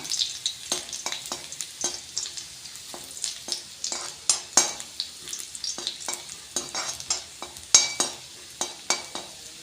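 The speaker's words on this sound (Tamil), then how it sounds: "பூண்டு வாசம் வர வரைக்கும் வதக்கிக்கலாம்" Garlic sautés in a pan for restaurant-style Hakka noodles, a steady close sizzle broken by frequent rhythmic scrapes and clatters of stirring.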